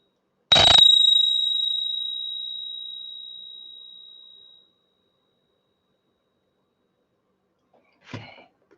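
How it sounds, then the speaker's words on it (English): One clear strike of a meditation bell opens with a bright attack, then a pure tone rings on and slowly decays over about four seconds into silence, followed by a faint brief shuffle. "I'm going to ring the bell and you can open your eyes"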